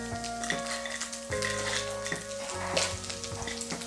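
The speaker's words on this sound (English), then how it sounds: "Once they are popped up, now try to add the dry red chili." Dry red chili sizzles in hot oil alongside already-popped seeds while tempering an Indian moong dal curry with tomato, a steady crackling hiss with faint pops, with music playing over it.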